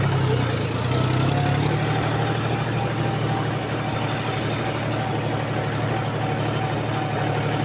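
A village tractor hauling a load of hay bundles chugs steadily at close range, its low engine drone continuous and even throughout, with no talk.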